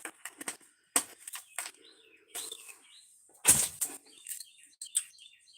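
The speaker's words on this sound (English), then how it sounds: "You hear the birds" Small birds chirp outdoors in short, scattered bursts of tweets, moderately close and fairly clear, with brief flutters and a few louder calls breaking a quiet background.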